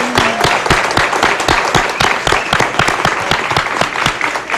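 A studio audience on the Mexican TV show Hoy in 2005 gives Shakira loud, close applause, with dense, sharp claps rattling steadily throughout.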